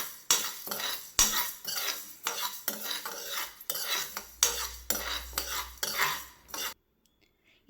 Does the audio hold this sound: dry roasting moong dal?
yes